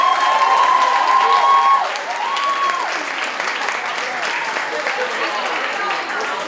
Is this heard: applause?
yes